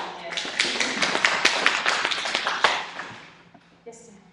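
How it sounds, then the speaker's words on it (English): Audience applause for Cynthia at a Herbalife University event, a burst of many hands clapping loudly for about three seconds before tapering off, with a voice briefly under it near the end. "Clap it up for Cynthia."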